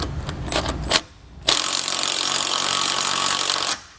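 A socket wrench tightens truck suspension bolts, with a few quick ratcheting clicks followed by a long steady grinding, rasping run that stops abruptly.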